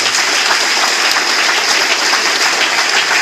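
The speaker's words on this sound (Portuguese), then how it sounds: "Vamos aplaudir a palavra" Steady applause from a sizeable church congregation during a sermon, loud and continuous throughout with dense, even clapping and no voices standing out.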